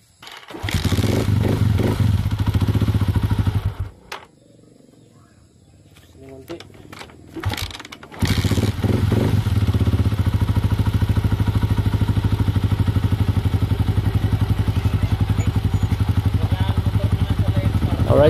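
Rossi 150 motorcycle engine with a lean fuel mixture being started, idling in a steady throbbing beat close by, cut by a quieter pause with clatter, then firing again and running evenly; speech is mixed in.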